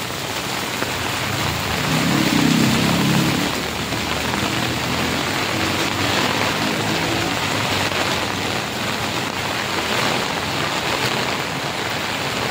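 Heavy typhoon rain pours steadily in Rizal, with a dense, unbroken hiss of drops hitting surfaces. A deeper rushing swell rises briefly early on before the downpour settles back to an even roar.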